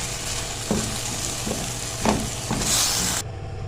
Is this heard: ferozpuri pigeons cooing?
no